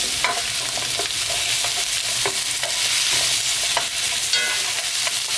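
Onions and carrots stir-frying in oil for spicy Korean pork stir-fry, a steady close sizzle with scattered scrapes and clinks of a spatula stirring the pan throughout, no talking.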